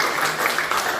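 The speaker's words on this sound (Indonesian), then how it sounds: "Iya, tepuk tangan untuk kalian semua ya." A class of students at a vocational school gives a brief burst of clapping, quick dense handclaps lasting about a second and fairly close.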